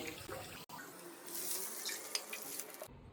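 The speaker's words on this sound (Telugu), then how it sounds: "2 గ్లాసులు నీళ్ళు పోసుకోవాలి" Two glasses of water splash steadily into a cooking vessel for a couple of seconds, close and moderately loud, then cut off abruptly.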